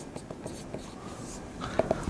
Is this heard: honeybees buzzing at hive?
no